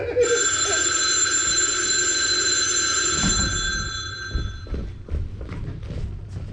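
A telephone ringing during a stage play, a loud continuous electric bell ring for about four seconds, followed by thumps and footsteps on the stage.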